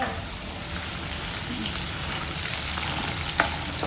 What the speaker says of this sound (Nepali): प्याजलाई एकछिन रातो हुने गरेर भुट्ने ल